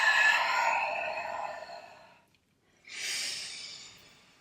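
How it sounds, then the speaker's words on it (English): Long, deep yoga breathing close by: a slow airy breath fading out, a brief pause, then another full breath rising again, with no talking. "Very long inhale."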